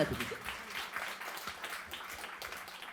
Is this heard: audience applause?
yes